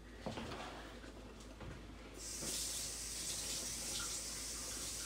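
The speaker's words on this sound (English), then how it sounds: "Rinse the onions." Tap water runs into a kitchen sink as onions are rinsed, a steady hissing stream that starts partway through and continues loud and close to the end.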